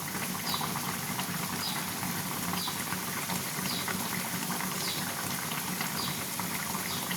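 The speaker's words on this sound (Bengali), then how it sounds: "সেটা একটু ফুটুক, তারপরে আপনাদের দেখাচ্ছি।" A mustard and poppy-seed fish curry simmers in a pan, a faint, even bubbling hiss that holds steady throughout with no voices.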